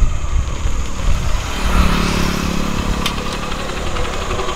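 Motorbike engine running close by, steady and loud throughout, on a trip to a biriyani shop in Inam Kulathur, with a continuous rumble and no talk.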